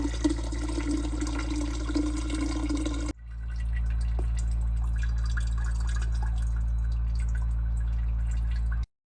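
Water rushing out of an open drain valve on a residential irrigation sprinkler system during winterization, a steady close hiss and gurgle that cuts out, then resumes as a continuous even flow before stopping abruptly.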